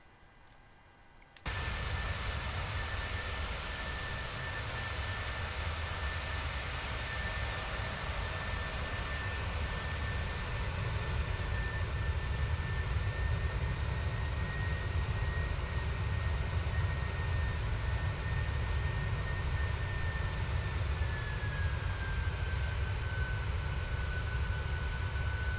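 Simulated Airbus jet engines from a flight simulator game hold a steady, loud broadband roar with a faint high whine that shifts pitch late on, continuous throughout after a brief quiet start, with no talk.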